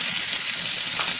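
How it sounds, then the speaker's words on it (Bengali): Shrimp and garlic fry in a pan for lauki dal, giving a steady, close, continuous sizzle with no talking over it. "এখন আমি এটাকে বাদামি করে ভাজব"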